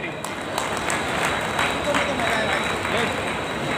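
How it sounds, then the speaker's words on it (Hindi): Audience applause for guests on stage at a Dr. Ambedkar birth anniversary event held by a Delhi division association, sustained broadband clapping throughout with crowd noise and voices underneath. "मैं चाहूंगा एक बार मंचासीन के लिए भी एक जोरदार तालियां साथियों"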